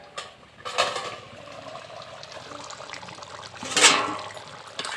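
A lid comes off a simmering pot of chicken and potato curry, with two brief metallic clatters over a soft, steady bubbling.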